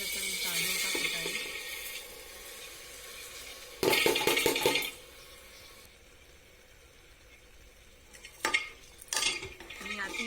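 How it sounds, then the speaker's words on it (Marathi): Washed rice tipped into a pan of sautéed spices for masale bhat: a brief gritty rattle and clatter of grains hitting the pan, set among soft stirring and faint kitchen sounds. "यात आता मी तांदूळ टाकत आहे."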